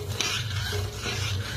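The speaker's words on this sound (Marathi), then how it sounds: "तर आता हलवून घेऊया। हलवून एक चांगलं शिजवून घेऊया।" A spoon scrapes and swirls steadily through sugar syrup in a pan, a continuous close rubbing stir with faint sizzling underneath.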